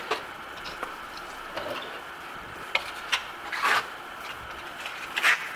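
A stainless steel trowel spreads thick Marmorino plaster, giving soft scraping and rubbing strokes with scattered light clicks and taps, close and irregular.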